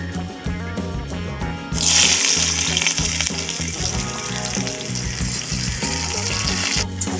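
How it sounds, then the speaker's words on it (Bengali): Sliced star fruit hits hot oil in a wok, and the ongoing frying swells into a loud, bright hiss that holds for several seconds over background music before easing off. "কেটে রাখা কামরাঙাগুলো দিয়ে দেব কড়াইয়ে।"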